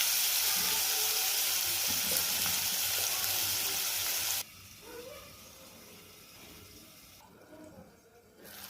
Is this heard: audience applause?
no